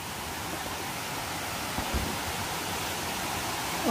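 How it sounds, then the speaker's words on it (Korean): Loud, steady rush of a mountain stream and waterfall swollen after heavy rain, a broad continuous roar filling the whole clip with no talking. "야, 물소리가 엄청나네."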